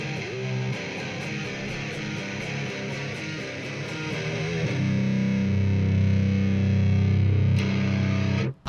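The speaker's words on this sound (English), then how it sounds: "I'm going to play the little riff from our breakdown" A distorted electric guitar riff from a song's breakdown, played on the neck pickup through an amp head's built-in distortion: chugging, heavily saturated low notes that thicken and grow louder midway, ending abruptly, with no talking.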